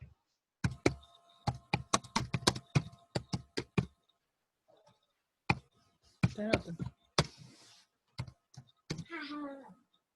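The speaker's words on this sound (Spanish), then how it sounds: "¿quién está por ahí tecleando?" Sharp, irregular key clicks from a computer keyboard being typed on during an online class session, a rapid cluster of taps followed by a pause, then a few more scattered strikes with brief speech fragments mixed in.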